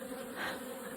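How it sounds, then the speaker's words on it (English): Honeybees buzz steadily at a hive outdoors, a dense continuous drone of many insects at close range with no voices. "Thank you for letting us be here, bees."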